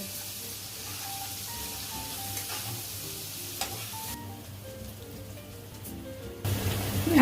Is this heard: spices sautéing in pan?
yes